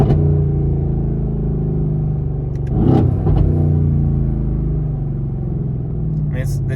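Mercedes-AMG GT R engine idling with a deep, steady rumble and a loose rattle from brackets at the rear, close and continuous, with a brief swell in the middle and people talking over it.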